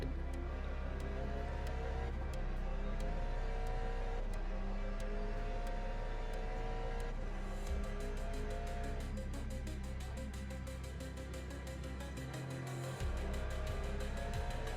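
Race cars, including a red Ferrari, run close together on a track, with a steady loud engine drone from the driving car and harmonics that rise and fall through gear changes, plus brief bursts as other cars close in. No talking.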